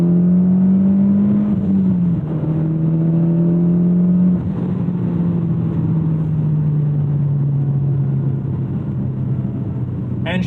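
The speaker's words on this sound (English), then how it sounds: "Engine does have more of that turbocharged character" The turbocharged engine of a 2014 Mitsubishi Lancer Evolution X pulls hard under acceleration, a steady rising drone heard from inside the car with one gear change partway through and a brief click at the end.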